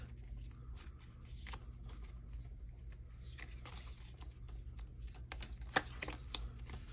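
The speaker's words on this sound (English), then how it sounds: "I got to shuffle up so that I can draw my 5." A deck of playing cards being shuffled by hand during a Hero Realms deckbuilding card game, soft repeated riffling and sliding bursts, close and quiet, with no talking.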